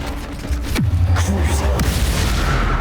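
A Bombarda blast spell from Hogwarts Legacy on Switch goes off with a loud, deep boom that drops into a low rumble and lingers under continuing game effects.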